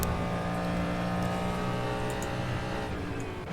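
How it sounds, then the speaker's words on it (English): A race car in the rFactor 2 simulator holds a low, steady engine drone with a faint whine above it, constant and close with no gear changes, no voices. "Very low revving engine"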